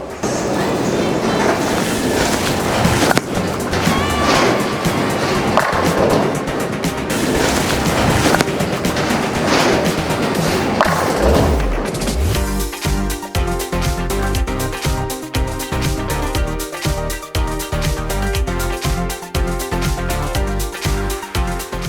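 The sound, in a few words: 900 Global Vengeance bowling ball shot rolling down lane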